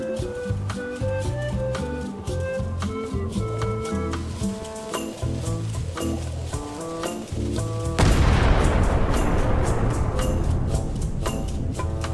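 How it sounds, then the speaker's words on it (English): A ship's cannon fires in the Return to Monkey Island video game, a single loud boom that rolls into a rumbling, crackling tail over steady background music. "Good to know we can fire the cannon."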